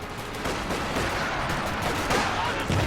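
Dense gunfire in a real-time strategy video game, a continuous rattling barrage of overlapping shots and bursts with no clear pauses, loud and busy throughout.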